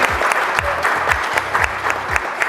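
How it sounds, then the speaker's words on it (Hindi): Enthusiastic audience applause fills an auditorium at the 67th Foundation Day event of Lalit Kala Akademi, a dense, steady clapping crowd with sharp individual claps standing out close by. "तो सबसे पहले तो बहुत जोरदार ताली बजा करके आप स्वागत करें"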